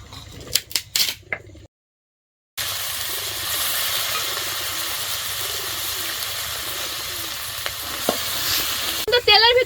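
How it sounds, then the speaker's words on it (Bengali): Ground bitter eggplant mash frying in oil, heard as a loud, continuous close sizzle with stirring scrapes; a few sharp knocks and a brief silence come before it, and no one speaks. "এটা শিলে বাইটে নেওয়ার পরে একটু তেল দিয়ে ভাজি করে নেবেন"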